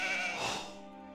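Sheep bleating in the Age of Empires 2 HD video game, a single short, bright bleat heard alone and up close, fading at the end.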